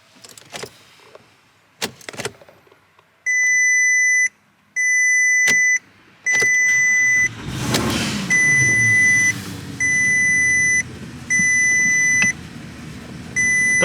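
A Porsche sounds a series of loud, evenly spaced warning beeps from the dashboard, about seven tones in a steady rhythm, preceded by clicks and handling noises inside the car.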